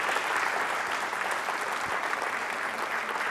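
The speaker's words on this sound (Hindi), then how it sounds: "फिलहाल तालियां बजाइए इन सभी के लिए जोरदार तरीके से" An audience at a Holi quiz show at MJRP University claps loudly and continuously, a dense, steady roar of applause with no break from start to end.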